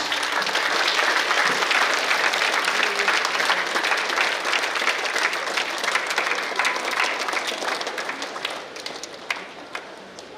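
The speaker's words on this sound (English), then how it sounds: "Give a round of applause as they install the sports torch." Sustained, loud applause from a crowd at a college annual sports meet as the sports torch is installed, dense and continuous for about ten seconds, slowly thinning near the end.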